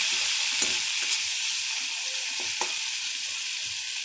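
Chopped tomatoes sizzle steadily in a pan over a high flame, a continuous hiss with a few soft stirring scrapes, close and moderately loud.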